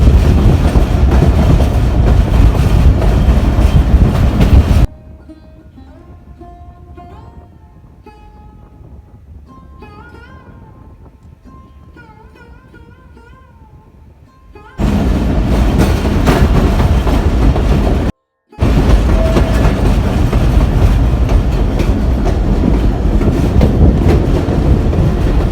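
A train travelling through the Bolan Pass tunnels in Balochistan, with loud steady rumble and clickety-clack of wagons on rails, dropping to a quieter muffled stretch in the middle before the roaring noise returns.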